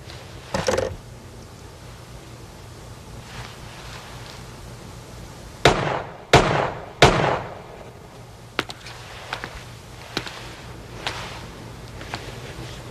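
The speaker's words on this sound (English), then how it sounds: "Nice shooting, boss." Sharp gunshots ring out in a crime action film scene, one early shot, then three loud cracks in quick succession near the middle, followed by several fainter scattered shots, with no speech.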